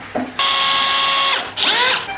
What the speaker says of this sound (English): we're good to drill our hole there